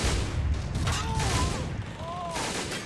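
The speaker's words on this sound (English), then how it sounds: "Here, 50 caliber firing." A .50 caliber machine gun fires in a Men of War: Assault Squad battle set on the Rhine in 1944, with rapid bursts amid loud, dense gunfire and a voice briefly heard in the mix.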